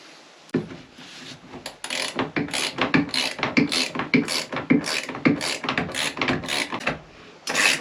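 Ring spanner tightening a keel nut on a boat, a run of repeated ratcheting, rubbing clicks in an uneven rhythm, close and moderately loud against a quiet background.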